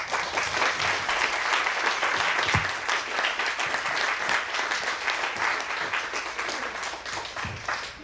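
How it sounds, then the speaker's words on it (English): A crowd applauds warmly and steadily, dense clapping sustained throughout with no one speaking. "Another big round of applause."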